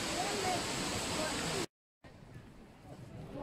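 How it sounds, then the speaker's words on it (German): Steady broadband roar of the largest waterfall at Plitvice Lakes in Croatia, heard from below; the rush cuts out briefly mid-clip, then resumes more softly, with faint crowd murmur in the background. "So, den größten Wasserfall von unten betrachtet."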